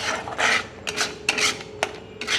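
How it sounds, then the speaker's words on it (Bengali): Paneer being stirred in a pan gives soft rasping scrapes in short, uneven strokes, close and moderately loud with no talk. "কিন্তু এটা ভালো করে আমার নাড়তে হবে।"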